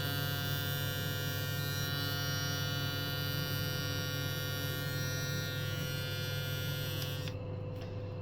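An Oral-B electric toothbrush switched on with its button gives a steady, close electric buzzing hum that runs unbroken for several seconds, then cuts off near the end.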